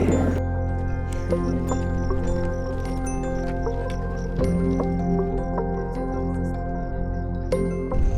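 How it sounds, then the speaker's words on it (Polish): Lava churns in the crater of Masaya volcano in Nicaragua with soft gurgling and dripping, liquid sounds over a steady low roar. "w którym widać lawę płynącą, żywą, bulgoczącą lawę"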